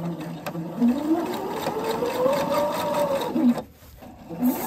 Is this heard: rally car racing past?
no